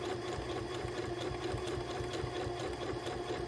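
Sewing machine stitching a foundation-pieced butterfly quilt block over a cream background, a steady close whirring hum with a fast regular needle rhythm running continuously.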